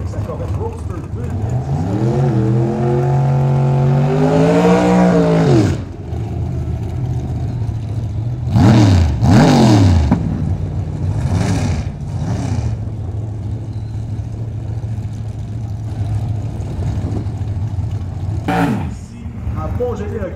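A Corvette Roadster drag racing at the Mont-Joli airport strip: an engine revs up in rising sweeps, then a couple of sharp bursts as the car launches and pulls away, with a voice talking over it.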